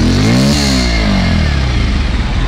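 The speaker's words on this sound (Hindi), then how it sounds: "चलो भाई स्टार्ट हो गया, बहुत ही लो वॉल्यूम पर स्टार्ट हुआ" Bajaj Pulsar 125 BS6 motorcycle starting up, its engine catching with a brief rising rev and then settling into a steady, fairly soft idle close by, with no talking.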